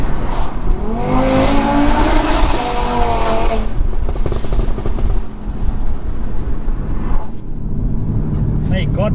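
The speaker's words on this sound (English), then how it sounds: "God bless the Audi 5-cylinder" Audi RS3 five-cylinder engine, tuned to 520 bhp, accelerating hard with a rising, warbling exhaust note, loud and close, followed by road and wind rumble and talk over it.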